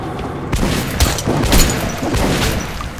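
Loud gunfire in the video game Metro: Last Light: a few sharp booming shots with rumbling echo, dense and continuous over roughly three seconds.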